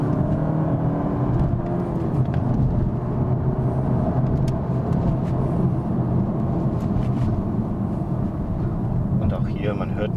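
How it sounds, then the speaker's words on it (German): A car with an aftermarket exhaust pulls away and accelerates in second gear, heard from inside the cabin as a steady, muffled low engine drone that fills the whole stretch. "Jetzt beschleunige ich mal wie vorhin durch"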